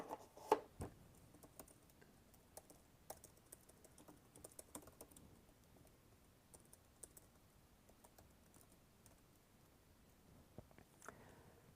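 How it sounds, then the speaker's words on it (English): Faint, scattered keystrokes as numbers are typed on a computer keyboard, soft irregular clicks spread over a quiet background with no speech. "So I'm just going to type in these numbers here."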